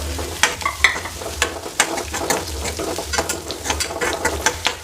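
Mixed vegetables with carrot and green chilli being stirred in a pan until lightly browned: frequent, fairly loud spatula scrapes and clacks in an uneven rhythm over a frying sizzle and a low hum.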